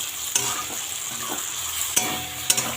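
Cumin, green chilli and mustard seeds fry in hot oil in a pan, giving a steady close sizzle broken by three sharp stirring scrapes.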